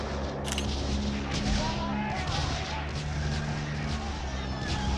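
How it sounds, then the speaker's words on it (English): World War I gunfire and artillery ring out just past the last houses of a village, with repeated sharp cracks and rumbling blasts over a steady low din, close and continuous throughout. "We're barely past the last houses when gunfire suddenly rings out."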